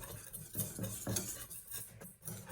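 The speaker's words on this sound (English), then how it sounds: "So we're gonna mix all this together." A utensil whisks pancake batter with milk in a bowl, with repeated scraping and clinking strokes in an uneven rhythm, close and fairly quiet.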